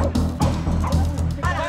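Hunting dogs bark loudly and excitedly at a cornered wild boar in the forest, with repeated overlapping barks and yips close by and voices mixed in.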